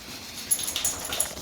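A dog whimpering near a car detailing job on a Volkswagen Transporter, a few short, thin whines over a low background hum.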